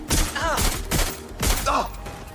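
Video-game gunfire in Watch Dogs Legion erupts as a few rapid bursts of shots in close succession, mixed with game voices shouting over the firing.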